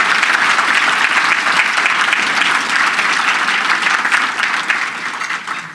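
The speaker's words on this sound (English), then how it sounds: "Please give him a round of applause." An audience at an awards event breaks into loud, dense applause, with many hands clapping in a continuous close wash that holds steady throughout and eases slightly near the end.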